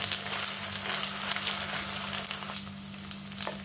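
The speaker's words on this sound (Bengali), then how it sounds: "একটু নেড়ে নেব, কাঁচা গন্ধটা চলে যাবে আদা রসুনের।" Ginger garlic paste frying and being stirred in a hot pan, a steady close sizzle with crackling bursts throughout, no voices.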